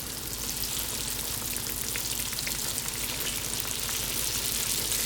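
Donut dough frying in hot oil in a pan on a woodstove gives a continuous dense sizzle and crackle, steady and close throughout with no voices.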